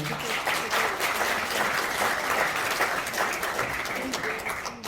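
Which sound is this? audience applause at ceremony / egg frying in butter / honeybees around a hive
audience applause at ceremony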